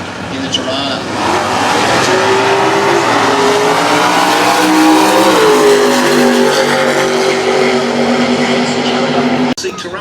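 Drag racing at Winternats 2013 in Queensland: Phil Newton's wheel-standing, Chevy 406-powered Tirana against Andrew Johnstone's Johnson's Garage Holden VT Commodore. Loud, sustained engine roar with climbing revs for several seconds under a commentator's voice, cutting off abruptly near the end.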